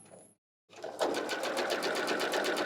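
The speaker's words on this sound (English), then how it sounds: "On this top edge, I will sew all the way" A sewing machine runs steadily, stitching along the top edge of a pant casing, starting after a brief pause and continuing at an even, close, loud hum.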